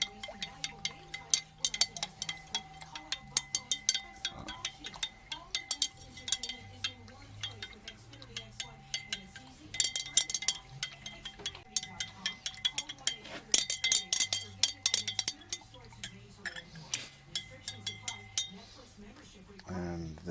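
A rod or stirrer clinks against a glass vessel while a solution is stirred during gold refining with zinc, giving rapid light tinkling and tapping. A steady tone sits underneath and a voice talks intermittently over it.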